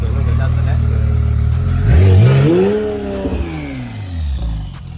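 A tuned Porsche 991 engine revs hard, its pitch sweeping up then falling back as it settles, loud and close, with a steady idle rumble before and after.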